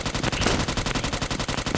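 Automatic gunfire in the mobile shooter game Scarfall rattles in a rapid, even burst of closely spaced shots, loud and continuous.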